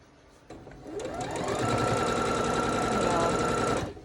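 A sewing machine stitches quilt pieces with the longer side toward the feed dogs, starting after a brief click and ramping up into a fast, steady mechanical whir that runs loud and close for about three seconds before stopping.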